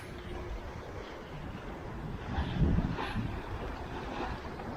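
Sailboat under way in about 15 knots of wind on a flattened sea, single-handed: steady rushing wind and water wash with a gentle swell in the middle, no talking.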